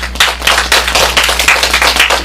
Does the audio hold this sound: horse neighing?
no